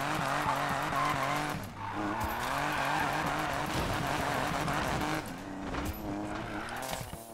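A Buick GNX drift build in Need for Speed Payback drones loudly, its engine note wavering as the tires squeal and skid through a long slide. The sound stays continuous and close throughout.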